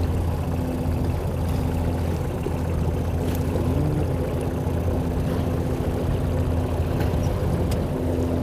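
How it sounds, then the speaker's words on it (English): Motorboats hum along a river near a fishing bank, a steady low engine drone that holds at moderate distance for the whole stretch with no voices. "Lots of boat traffic out here."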